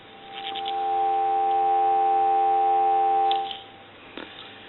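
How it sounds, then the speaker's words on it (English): A steady telephone dial tone on a Kellogg Rotary F740S wood wall telephone fades in, holds for a few seconds, then stops, followed by a faint click. "I want to give you some dial tone."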